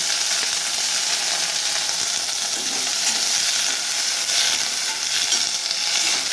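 Onions and curry leaves fry in hot oil for a paarai fish curry. A loud, steady sizzle and crackle fills the whole stretch without a break, with no one talking.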